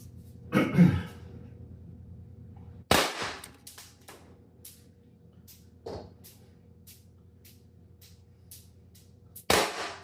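Sharp, close pops ring out from a CO2-powered self-defense launcher firing Smasher XL rounds, a few separate shots spaced several seconds apart against a quiet background.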